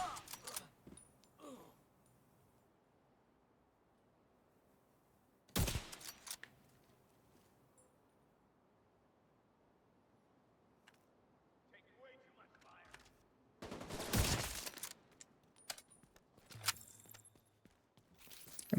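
Gunfire in a video game: two loud, sharp bursts of shots around the middle and near the end of a quiet stretch, with faint scattered clicks and soft background noise between them.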